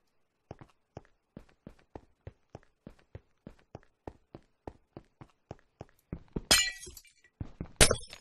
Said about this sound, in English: Time to break some more glass